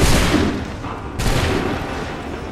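A musket volley fires in Assassin's Creed III, a loud dense crack of many shots at the start that rolls into a rumbling roar, with a second burst of fire about a second later.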